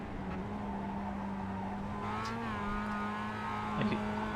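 Mazda MX-5 race car engine accelerating hard at Oulton Park, a steady droning engine note climbing in pitch over several seconds, moderately distant, with a brief higher whine and tire noise near the end.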